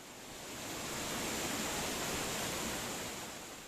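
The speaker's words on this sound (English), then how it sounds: "only to find a cascading waterfall." A waterfall cascades inside an underground cave, a steady broadband roar of falling water that swells in, holds and eases slightly at the end, with no voices.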